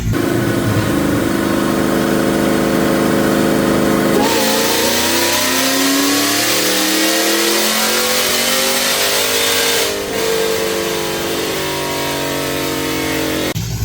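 A supercharged GMC Sierra truck engine revs continuously under heavy load on a dyno pull, pitch climbing steadily, with a brief drop and recovery, close and dominant with no voices.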